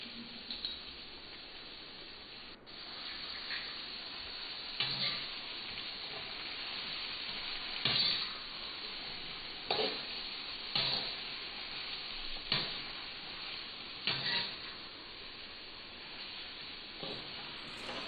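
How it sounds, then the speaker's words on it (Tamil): Carrot, tomato, onion and garlic sauté in a pan for chutney with a continuous close sizzle. Regular scraping and stirring strokes of a spatula recur every second or two, with no talking. "அது நல்லா வதக்கி விட்டுகிட்டே இருங்க."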